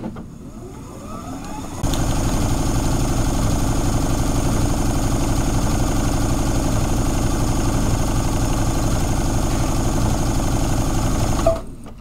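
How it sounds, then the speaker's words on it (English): Brother Stellaire sewing machine running a sashiko stitch with nylon thread, starting after a short pause and then whirring in a steady, loud, fast-pulsing drone before stopping abruptly at the end. "So now I'm going to just put my foot down and I'm going to start to sew."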